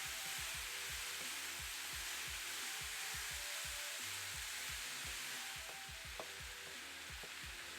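Meat with carrots, bamboo shoots and mushrooms stir-frying in a pan, a steady hiss of sizzling with rhythmic spatula scrapes and stirs close by, no talk.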